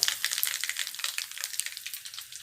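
Mustard seeds splutter in hot sesame oil for a pickle, a close, dense crackle of rapid tiny pops and sizzling hiss throughout, with no talk.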